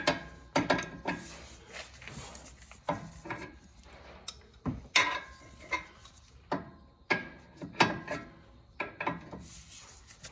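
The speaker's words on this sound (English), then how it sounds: "Last thing we do is put this nut back on. Tighten this up." Hand ratchet tightening the nut on an outer tie rod end of a Ford Explorer, a series of short irregular clicking and rubbing bursts at close range with brief pauses between strokes.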